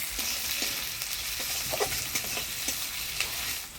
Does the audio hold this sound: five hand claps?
no